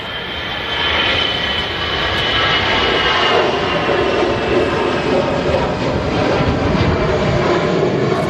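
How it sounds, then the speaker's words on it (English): An EasyJet airliner on its takeoff roll at Manchester Airport, bound for Hamburg, builds a loud, sustained jet engine roar with rumbling, crackling low end that stays strong throughout. "Yeah, another EasyJet on the roll here."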